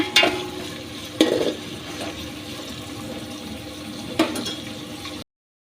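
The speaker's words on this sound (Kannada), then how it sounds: "ಈಗ ಚೆನ್ನಾಗಿ ಫ್ರೈ ಆಗಬೇಕು. ಚೆನ್ನಾಗಿ ಮಿಕ್ಸ್ ಮಾಡ್ಕೊಳ್ಳಿ." Onions for a coconut chicken curry fry in a pan, a soft steady sizzle punctuated by a few sharp scrapes and clanks from stirring.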